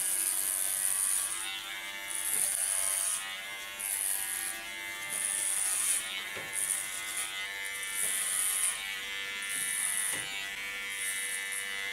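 Electric hair clipper fitted with a clipper comb buzzes steadily while cutting hair for a nape shave on a straight bob, its close, continuous whine rising and dipping in repeated strokes.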